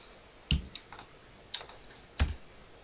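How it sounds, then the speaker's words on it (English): A few sharp keystrokes on a computer keyboard, close and distinct, spaced irregularly over a quiet background. "I hit my keyboard, by the way."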